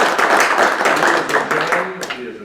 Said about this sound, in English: Let's give Amber a round of applause